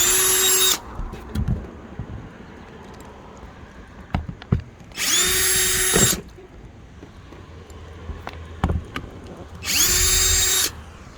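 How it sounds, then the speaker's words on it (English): A cordless drill with a square drive bit removes screws in three short, loud bursts, with clicks and small clattering sounds in the quieter gaps between them. "these look like they're coming out just fine with a square drive bit on my rechargeable drill"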